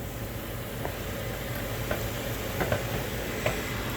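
Meat searing in a hot pan sends up a continuous, loud, broadband sizzle that holds steady throughout, broken by a few faint clicks and pops.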